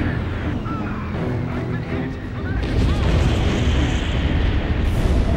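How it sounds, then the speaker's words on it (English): Ballistic missile explosion hitting an aircraft carrier in Ace Combat 5: a deep rumbling roar that swells midway into a sustained, heavy blast wash, with jet noise and radio voices underneath. "Ballistic missile incoming!"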